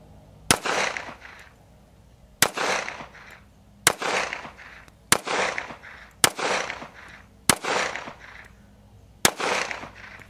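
Seven loud, sharp gunshots from a Regent R200S 1911 handgun loaded with a Pro Mag magazine, fired at an even pace roughly every one and a half seconds, each crack followed by a brief echoing tail.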